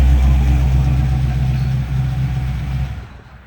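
A 1955 Chevrolet Bel Air engine running, a loud close low rumbling idle that holds steady and then dies away to quiet near the end.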